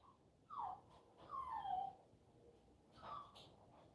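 A dog whimpers to be let outside, giving three short, high whining cries spaced apart, moderately close, over a quiet indoor background.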